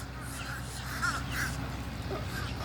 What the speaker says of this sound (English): hanging out with the ducks, the birds, as they do a little communicating with one another